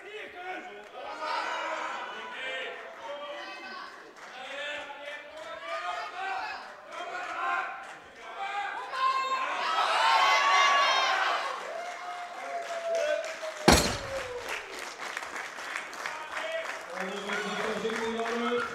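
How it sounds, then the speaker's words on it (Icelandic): Spectators at an Icelandic deadlift championship clapping and cheering loudly in a hall, rising to a peak with one sharp bang, while an announcer speaks over the crowd. "Áhorfendur, látið heyrast í ykkur!"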